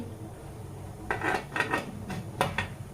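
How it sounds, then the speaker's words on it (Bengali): A lid is fitted onto a cooking pot: after a quiet start come a few metallic clanks and scrapes in close succession, near and clear with no talking. "ঢাকনা আটকে দিলাম"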